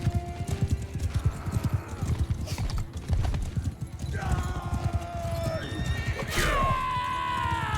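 A horse in Mount and Blade Bannerlord whinnies twice in long descending neighs over a steady clatter of galloping hooves, with someone talking over the battle noise.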